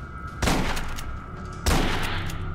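Two loud bursts of rapid gunfire in the video game Aliens: Colonial Marines, about a second apart, each cutting off into a steady background hum, with no talking.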